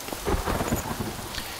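Rain and thunder ambience from the video game Craft the World, a steady wash of rainfall with low rumbling swells, moderately loud and with no voices over it.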